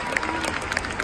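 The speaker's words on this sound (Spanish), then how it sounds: "un fuerte aplauso para ella." An audience at a Mary Kay seminar applauds, a dense steady burst of clapping from a crowd, brief and continuous.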